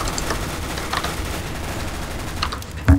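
Rapid gunfire from Counter-Strike: Global Offensive, a steady clatter of shots and bursts at moderate distance over a busy background, with a louder thump near the end and no voices.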